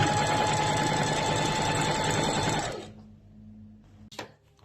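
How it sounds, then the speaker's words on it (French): A sewing machine stitches fabric for a baby bib, a loud steady whirring run close by that stops abruptly partway, followed by a quieter pause and a brief click. "C'est parti, on commence la couture à 1 cm du bord."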